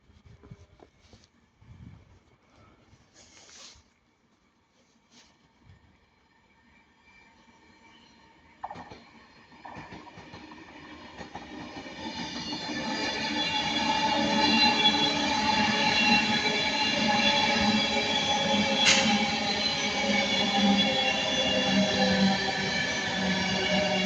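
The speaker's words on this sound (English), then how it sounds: "our final train of part 1 is going to be 39119 Pride Progress, going from London Euston to Manchester Piccadilly" Train 39119 on a London Euston to Manchester Piccadilly service passing Ardwick: quiet scattered clicks first, then a rising rumble with tonal whine and squeal that swells and holds loud to the end.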